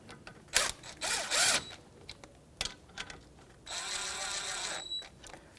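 Socket wrench snugging down the new brake caliper bolts on a 1992-1996 Toyota Camry, heard as short bursts of ratcheting clicks, close and fairly loud, with brief quiet gaps between.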